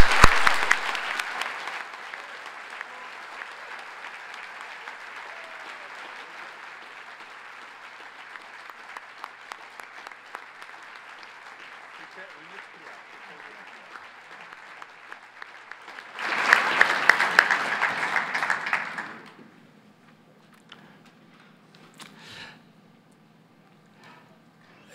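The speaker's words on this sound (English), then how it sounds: "Ladies and gentlemen, please applaud the new fellows of the Academy of Science." Audience at a ceremony for new Academy of Science fellows applauding steadily for about fifteen seconds, then a louder swell of clapping before it fades into near silence with a few stray claps.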